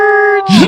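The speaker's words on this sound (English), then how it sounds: "Oh, what a great howl that was." A short, drawn-out howl holds a steady tone, then breaks into a louder, rougher burst at the end. It is fairly close and stands alone, with no talk over it.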